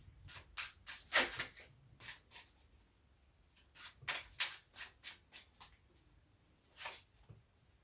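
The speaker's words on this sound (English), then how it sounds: "when my hands are cold, I shuffle really, really poorly" A deck of tarot cards shuffled by cold hands, giving a series of crisp riffling and flicking bursts in uneven clusters, close and fairly quiet, with no talking.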